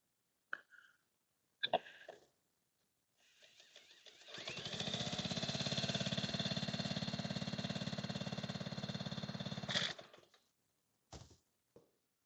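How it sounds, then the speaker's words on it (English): A Maytag twin-cylinder engine is spun over with a drill, a steady buzzing mechanical whir that runs for about six seconds, bracketed by brief clicks and short bursts at the start and end. "I'm going to spin this over with a drill instead of kicking it on this table."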